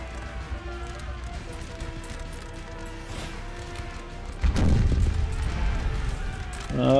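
Cannon artillery fire in the Napoleon: Total War battle of Bailen game, with a loud booming burst midway and another rising impact at the end over a continuous battlefield din of distant musketry and ambience.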